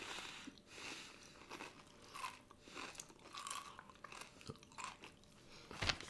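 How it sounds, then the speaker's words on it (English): Crunchy non-grain chips chewed close to the mic, soft irregular crunches and mouth noises at a quiet level, ending in a brief sharper crinkle. "It's another one you have to keep chewing."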